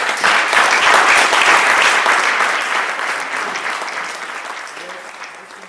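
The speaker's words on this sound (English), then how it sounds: "please give him a big applause for" Audience applause for Peter at a city forum on sports and recreation infrastructure, loud at first and then slowly fading.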